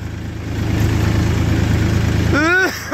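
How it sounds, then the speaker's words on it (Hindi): Original Massey tractor engine running steadily nearby with a low, throbbing idle, loud and continuous, joined near the end by a short whistling tone. "मैसी ओरिजिनल है, बिल्कुल बहुत ही प्यारा ट्रैक्टर है"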